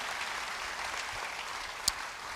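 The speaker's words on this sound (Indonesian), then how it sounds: "Beri tepuk tangan yang baik bagi dia." Church congregation claps in steady, moderately loud applause for a couple of seconds, with one sharp knock or thump near the end.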